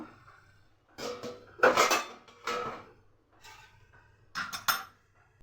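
A plate set over a pan of greens curry, with several light clinks and clatters of dishes in short bursts separated by quiet gaps, close by with no talk.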